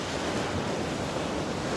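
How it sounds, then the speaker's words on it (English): Waves at a beach, a constant wash of surf mixed with wind buffeting the microphone, steady and fairly loud across the short stretch with no voices. "So yeah, this is the beach"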